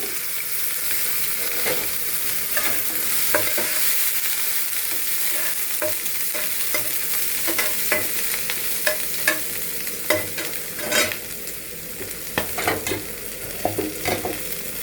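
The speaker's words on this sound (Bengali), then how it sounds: "লাউয়ের খোসা আলু দিয়ে ভাজি করব" Bottle gourd peel and potato frying in hot oil on a heated pan, a steady sizzle with frequent stirring scrapes and clatters throughout, fairly close and without talk.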